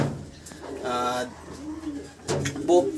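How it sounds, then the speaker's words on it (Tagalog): Young pigeons in a loft give soft cooing calls, with a burst near the middle and another toward the end, close and moderately loud over faint background voices. "tingnan nyo yung young bird natin"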